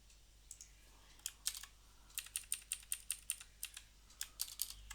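Typing on a computer keyboard while writing code, a close, quiet run of irregular key clicks with short pauses, then a steadier rapid burst of keystrokes.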